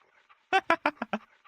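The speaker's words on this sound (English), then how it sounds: "it's always going to be the dogs that ends Necro's life" Dogs in the video game Bigfoot give a quick run of five sharp yelping barks, close and clear, with near silence before and after.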